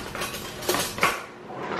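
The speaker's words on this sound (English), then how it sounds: "instead of combine it, I'm just kind of stir it in there." A spoon stirs sauce mix in a cooking pot, scraping and clinking against the metal close up, with a couple of sharper knocks and no voices.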